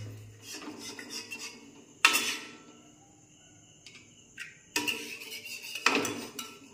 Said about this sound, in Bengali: ক্যারামেলটা দিয়ে ভালো করে এটাকে আমরা মিক্স করে নেব